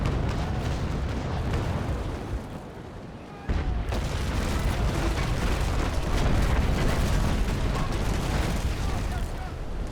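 Naval cannon fire in the Naval Action sailing game, a continuous rumble of heavy broadside booms with a brief lull partway through before the barrage resumes loudly, with a voice talking over it.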